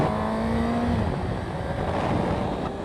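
A Suzuki GSX-R600 sport motorcycle engine holds a steady, loud, continuous drone while riding, with a brief rising whine early on and no speech.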